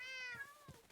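Minecraft cats meow in the video game, two short tonal meows close together, clear and fairly loud with no talking.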